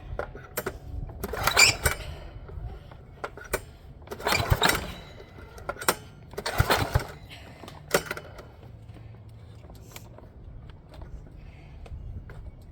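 A small single-cylinder Kawasaki motorcycle engine, unrun for 10 years, sputters and coughs in irregular bursts, repeatedly catching briefly then dying away, with quieter gaps between attempts.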